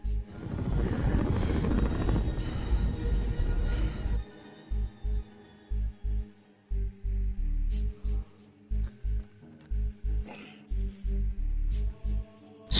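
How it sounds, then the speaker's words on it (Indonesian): An Apache helicopter from the war film Lone Survivor thumps overhead, a loud rotor roar followed by rhythmic, pulsing blade beats that repeat steadily. "Tak lama kemudian datanglah helikopter Apache untuk memberi bantuan"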